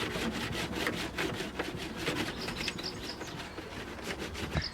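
A clay bar rubbing across the freshly washed paint of a Jaguar F-Type, a close, continuous squeaky friction with rhythmic strokes, faint birdsong in the background.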